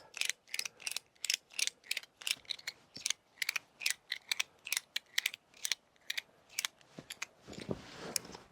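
Hand ratchet tightening a maple syrup tubing mainline outdoors, a rapid series of sharp, close clicks in short bursts with brief pauses, ending in a softer rustle.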